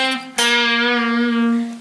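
A sustained, slightly distorted electric guitar note from a riff rings out after a short attack and string bend, holding steady before fading, with no talking.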